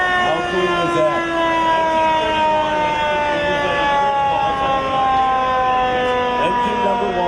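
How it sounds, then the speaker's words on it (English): Linwood Fire Engine No. 1 sounds its siren in an Independence Day parade, a loud, close, continuous mechanical wail with layered steady tones that holds throughout without pause. "We got the Linwood Fire engine number 1"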